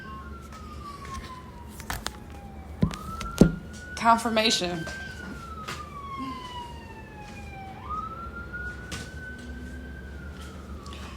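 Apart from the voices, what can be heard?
ambulance siren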